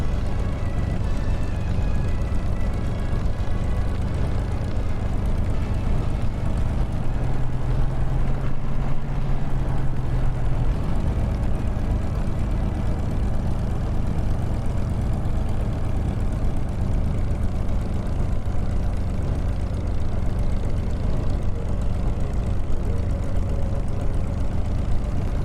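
Spitfire piston aircraft engine in the DCS flight simulator, a steady loud low droning roar that holds continuously at takeoff power with no talk over it.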